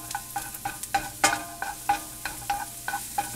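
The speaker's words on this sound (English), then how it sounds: "take the basil, add it to the pan, and stir it around for just a minute" Basil is stirred around a pan with softened onion and garlic, making a quick, regular series of about a dozen spatula scrapes and taps over a low background sizzle, close and clear.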